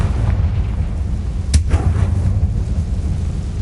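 A Confringo fire spell bursts in the Hogwarts Legacy video game as one sharp blast partway through, standing out over a steady low in-game rumble.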